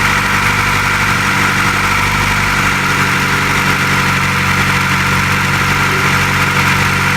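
A 1996 Acura Integra engine idles steadily while warming up after a head gasket replacement, a loud, even, continuous hum heard up close without pause.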